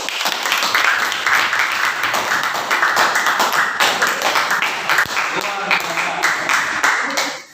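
A class of students clapping in applause after a classroom lesson, dense and continuous near-field clapping with a teacher's voice talking over it.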